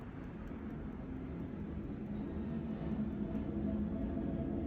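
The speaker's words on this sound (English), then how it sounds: "Sorry about the airplane." An airplane flying over a home near an airport, heard as a steady, low broadband rumble that swells slightly as it passes, with no talking.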